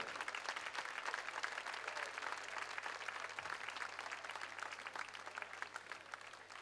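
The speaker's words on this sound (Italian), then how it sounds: "un applauso all'applauso della piazza di Nardò" A crowd in the town square of Nardò applauds at a fashion gala, steady dense clapping heard from a distance that holds for the whole stretch.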